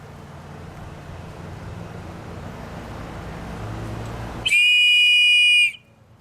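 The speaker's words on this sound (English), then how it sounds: "I'm going to blow the whistle here soon, so you'll be able to hear it." Faint outdoor background gives way to a loud, shrill blast from the emergency whistle on an Opinel Explore knife. The single steady tone lasts just over a second, then cuts off.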